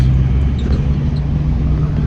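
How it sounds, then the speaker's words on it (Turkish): A truck drives along a country road, its engine and tyres making a steady, loud low rumble throughout, heard from inside the cab with no talk. "Şu an kamyonumuzla gidiyoruz."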